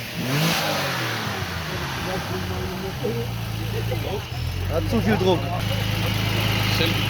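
A supercharged Ford Capri race car engine revs and idles close by, the note rising and falling steadily beneath voices talking over it at an outdoor car gathering.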